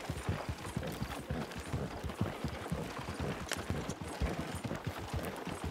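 Horse hoofbeats in Red Dead Redemption 2, ridden in roleplay: a steady, fairly quiet clip-clop gait of irregular hoof thuds under faint ambient noise, with a few clicks and rattles alongside.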